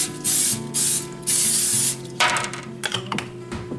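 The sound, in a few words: cooking spray sprayed into pan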